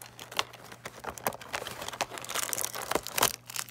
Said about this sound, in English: He ripped the whole thing.